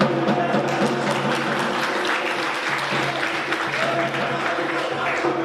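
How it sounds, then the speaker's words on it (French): Sustained applause from a crowd at an Ivorian political gathering, steady and dense throughout with a faint background hum. "J'ai fait exprès d'enchaîner les deux en même temps pour que les applaudissements soient pour tout le monde."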